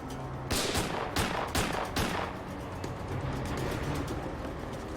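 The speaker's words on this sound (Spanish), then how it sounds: "El oficial Sergi también recibe un disparo." Several sharp gunshots crack in quick succession over the first two seconds, then a steady noisy background continues with no further shots.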